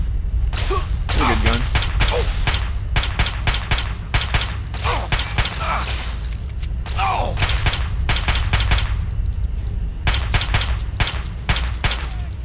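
Rapid bursts of gunfire from the video game Fallout 3 crack out in dense volleys across the stretch, loud and close, with brief pauses between flurries.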